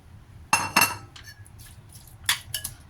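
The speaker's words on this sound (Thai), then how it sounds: "ใส่หอมใหญ่เข้าไปก็คนให้เข้ากันนะคะ" Onions stirred into Korean curry in a pot, with a few close metallic clinks and scrapes of a utensil against the pot in two short bursts.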